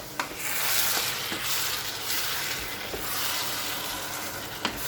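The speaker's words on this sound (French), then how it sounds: "Je vais mélanger un petit peu notre concassé de tomate." Tomato concassé sizzles and scrapes as it is stirred in a hot pan, a steady frying hiss with a few soft utensil taps against the pan.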